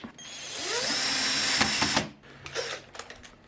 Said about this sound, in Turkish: Bunun burası tork ayarımız. Şuraya getirdiğimizde matkap özelliği devreye giriyor.